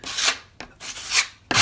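Filler is spread over a patch in a new-build ceiling with a few short scraping swipes, close and fairly loud, in a quick rhythm with brief gaps and no talk.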